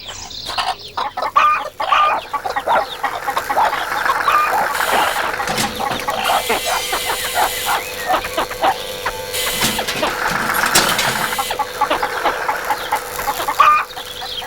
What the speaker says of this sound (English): Dorothy wondered why the chickens were making such a noise.